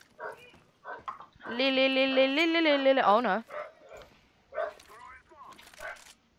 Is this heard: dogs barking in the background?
yes